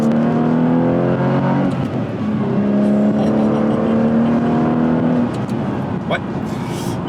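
A 2005 Aston Martin Vanquish S engine revs and drones steadily, its pitch shifting as it accelerates, loud and continuous beneath someone talking in French.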